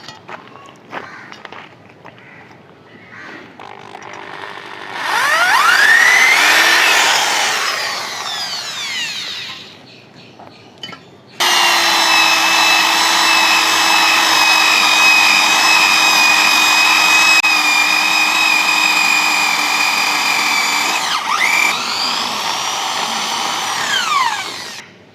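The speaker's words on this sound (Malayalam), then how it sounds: "നമുക്ക് ഇവിടെ ഒരു 180 ബിറ്റിൻ്റെ ഹോൾ അടിക്കാം" A power drill with a 180 bit bores a hole, whining in a short burst that rises and falls, then a long steady high-pitched run that winds down at the end, close and loud.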